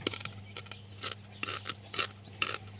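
Eggshells being pounded fine for chili plant fertilizer, heard as about six rhythmic crunchy, gritty strikes over a steady low hum, fairly close and alone.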